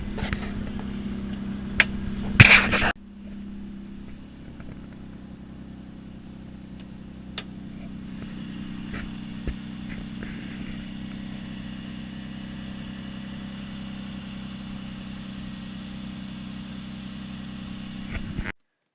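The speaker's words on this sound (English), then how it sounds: "the muffler is bad enough, and power steering not happy" A Mitsubishi Eclipse engine idles steadily with a low, rough exhaust drone from a bad muffler, continuous throughout, after a brief louder rattle near the start.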